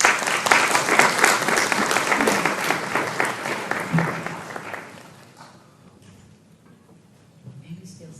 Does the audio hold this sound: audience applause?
yes